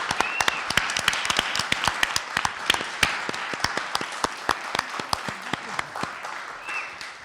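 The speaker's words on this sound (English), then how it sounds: "Please give all the honorees a big round of applause for their service and dedication to this community" Sustained round of applause from an audience honoring community members at a disabilities advisory board meeting, many hands clapping steadily and fairly close for several seconds.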